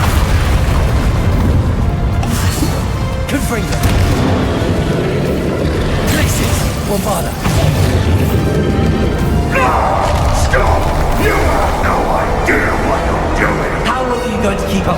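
Explosive spell blasts from the video game Hogwarts Legacy, with loud booming bursts and crashing impacts repeating over a dense battle soundscape, a voice speaking over the fight throughout.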